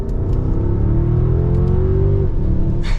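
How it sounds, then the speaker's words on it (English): A 2022 Mercedes-Benz S580 4Matic sedan accelerates smoothly, a steady engine hum rising in pitch and then settling as it shifts, heard from inside with no talking. "It is just effortless acceleration."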